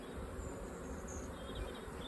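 Honeybees swarm and buzz steadily around an opened hive in poor spring weather, a dense, continuous hum close by with no talking.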